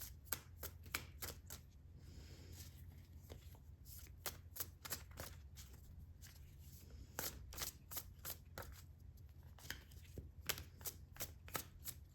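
Tarot cards are shuffled by hand in quick, quiet riffling snaps that come in uneven bursts with brief pauses, close and alone with no talking.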